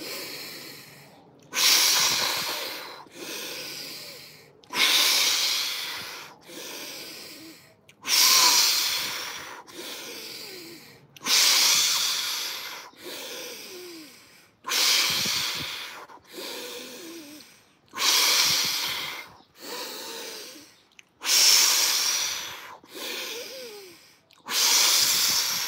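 Heavy, deliberate breaths during an ice bath, with about ten loud, rhythmic inhale-exhale cycles spaced roughly every two to three seconds, each one a strong rushing burst that fades. Close to the mic, with no talk.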